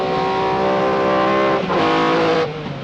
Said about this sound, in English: That is the noisiest rally car I've ever sat in and ever experienced.